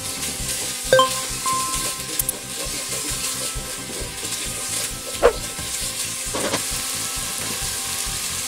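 Chopped onion frying in hot oil in a saucepan, a steady close sizzle with a few brief clinks and scrapes scattered through it.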